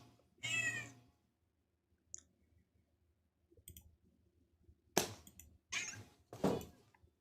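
A house cat gives several short, loud meows, one near the start and a cluster of three toward the end, separated by near silence with faint clicks and thumps.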